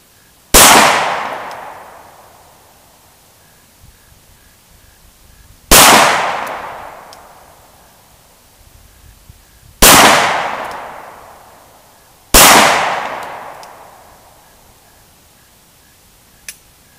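Four sharp, loud pistol shots from a Glock 19 Gen4 fired at a steel target, each ringing out and decaying slowly, spaced several seconds apart with faint clinks between.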